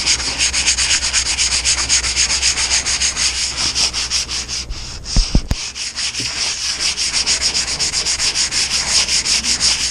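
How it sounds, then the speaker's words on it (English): A sanding block scrapes back and forth over a plastic kayak hull in a fast, steady rhythm, loud and close, with a brief pause midway. "It's a sanding block, so that's actually a medium one."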